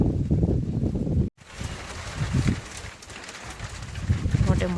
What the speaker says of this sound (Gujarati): ઢાઢો પવન આવે